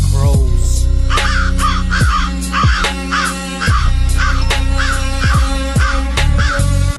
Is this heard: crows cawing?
yes